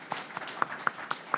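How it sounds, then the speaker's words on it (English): A few light, evenly spaced claps ring out faintly in a small room as an audience applauds committee staff at a congressional subcommittee field hearing on veteran homelessness. "Can we give them a round of applause?"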